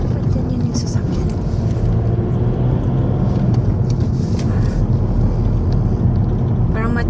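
A car passes along a sunny street during a walk, a continuous low rumble close by with a broad road hiss throughout and no clear talk.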